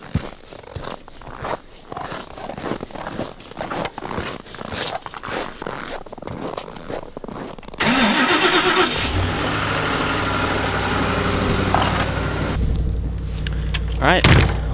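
Pickup truck starting up in bitter winter cold at a snowy campsite, preceded by rustling and zipping, then the engine cranks and catches into a loud, steady idle that continues to the end.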